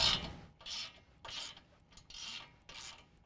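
A wrench loosening the 21mm nut on the lower ball joint of a 2015-17 Ford F-150 4WD, heard as five evenly spaced rasping, ratcheting strokes. The strokes are close and moderately loud, with no talk.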